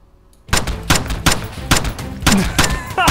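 Rapid gunfire in a Roblox army training game: a series of loud, sharp shots fired in quick bursts after a brief quiet start, with a short voice sound partway through.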